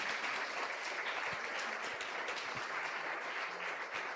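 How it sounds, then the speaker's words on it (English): A conference audience in Venice applauds a speaker named Tatiana, a steady, dense wash of clapping that holds evenly for several seconds with no voices over it. "a big applause for Tatiana"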